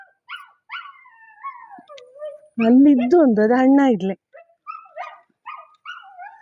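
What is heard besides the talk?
dog barking and whining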